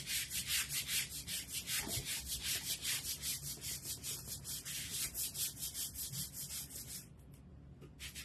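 A wooden cutting board is sanded by hand with a sanding block, giving a steady rhythmic scratch of quick back-and-forth strokes, close and fairly quiet, alone for most of the stretch before easing near the end.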